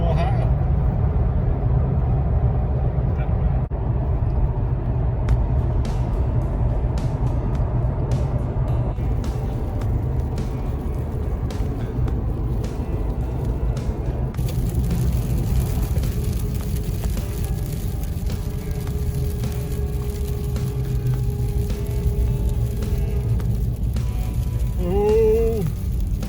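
A car cruising at about 55 mph on a snowy, icy highway gives a steady, loud road and engine drone throughout, with people talking over it.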